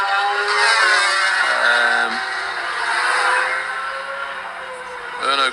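Superstock racing motorcycles at the Macau Grand Prix street circuit, loud engines revving and shifting up through gears as bikes pass close by, a sharp rising rev near the end over a steady roar.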